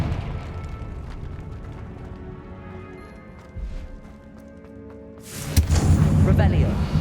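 A Confringo fire spell goes off in Hogwarts Legacy, a loud booming blast near the end that follows rumbling mechanical game effects and a short thud, with a voice heard earlier.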